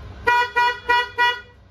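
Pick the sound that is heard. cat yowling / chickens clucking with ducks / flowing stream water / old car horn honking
old car horn honking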